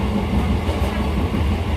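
A late evening train pulls into Krishnanagar station, heard from inside as a loud, steady low rumble and rattle of the carriages, briefly and without talk.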